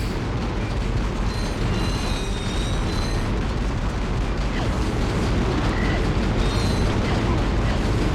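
The Morph Array weapon in Ratchet and Clank fires at a tank with a steady, roaring wash of blasts and crackling bursts, loud and unbroken throughout, with faint tonal chirps on top.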